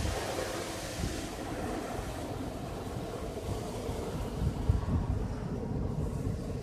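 Water from a car wash sprays over a car, making a steady rushing wash of noise with low rumbling underneath and a brief surge partway through.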